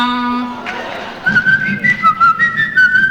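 After a held tone, a person whistles a short, lilting tune of clear rising and falling notes, close and fairly loud, with no talking.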